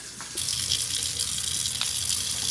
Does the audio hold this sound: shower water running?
yes